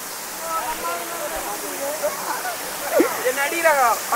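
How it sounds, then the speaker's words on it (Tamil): A waterfall near Ramapuram village in Arcot pours with a steady, close broadband rush, while people's voices talk over the constant roar of the water. "ஸோ ஒரேடியாக அருவி வந்து நெருங்கியாச்சு."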